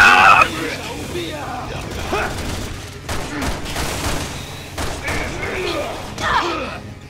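A breaching charge goes off in Resident Evil 6: a loud blast right at the start, then a thudding, rumbling aftermath as characters shout and talk over the noise.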